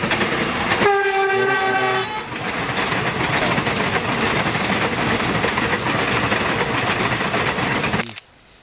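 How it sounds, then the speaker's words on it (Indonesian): A loud, sustained train horn blares for about a second at a railway level crossing, then a passing train rumbles and clatters steadily until it cuts off abruptly. "laksonya, bunyikan terus guys."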